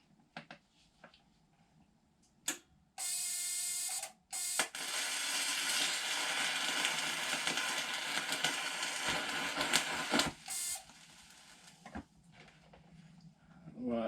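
TIG welder arc welding metal at low amperage, a continuous buzzing crackle that starts and stops several times, loud and close, with quiet gaps between the bursts.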